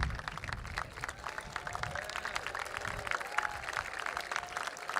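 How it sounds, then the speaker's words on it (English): An outdoor Memorial Day crowd at Mt. Soledad National Veterans Memorial gives sustained applause for veterans, with dense, even clapping and some crowd noise throughout. "Big round of applause."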